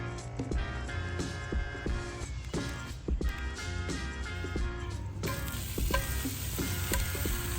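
Thick slices of homemade cured and smoked bacon fry in a pan with a steady, close crackling sizzle that runs throughout, and scattered sharper pops and clinks come over it.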